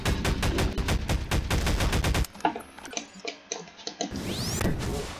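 Rapid automatic gunfire in Garry's Mod, a dense burst of evenly spaced loud shots, then scattered single impacts and clicks before a brief rising whine.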